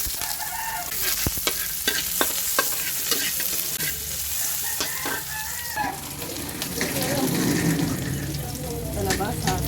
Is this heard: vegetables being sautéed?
yes